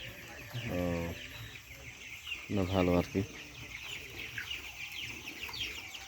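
Broiler chickens on a poultry farm keep up a steady chorus of clucks and chirps in the background, while a voice talks briefly over them twice.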